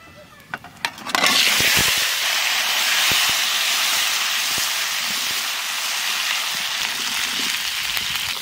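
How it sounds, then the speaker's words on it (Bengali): Potatoes fry in hot oil with cumin and bay leaf, a broad steady sizzle that rises abruptly after a few light clicks and then holds loud and continuous, close and without talk. "আলুটা একটু ভাজে নিচ্ছি"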